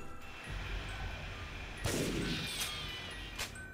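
Gunfire in the video game TimeSplitters: Future Perfect, a loud burst of rapid shots after about two seconds followed by a couple of sharper single reports, over steady game background noise.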